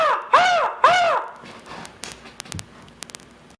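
A man imitates a crow, giving two loud, close cawing calls in quick succession, followed by scattered faint clicks and knocks in a quiet room.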